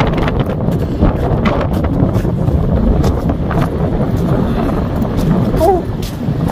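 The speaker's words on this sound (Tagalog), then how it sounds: "Parang ano na, snowstorm. Lakas ng hangin." Strong snowstorm wind in Edmonton, Alberta buffets loudly and continuously, roaring and gusting with rough rumbling bursts.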